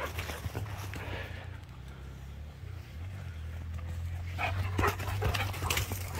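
Dogs pant close by in a spring garden, quick rhythmic breaths running continuously, with some rustling and light movement around them.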